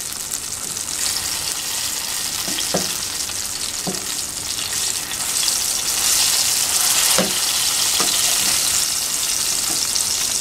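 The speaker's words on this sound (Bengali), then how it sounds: "বেগুনগুলো ভাজা হয়ে গেছে" Eggplant slices fry in oil in a pan with a dense, continuous close sizzle. A few soft spatula knocks and scrapes break through the hiss, with no talking.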